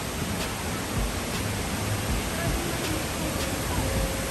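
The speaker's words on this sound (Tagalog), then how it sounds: "Dito po Daan Pagitan Falls." Pagitan Falls near Wawa Dam in Montalban, Rizal, pours in a loud, constant roar of rushing water, with faint murmuring voices blended into the noise.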